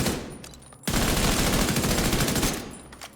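Sustained automatic gunfire from the video game The Division 2, a loud continuous burst of rapid shots that runs for about a second and a half before cutting off, with quieter game ambience before and after.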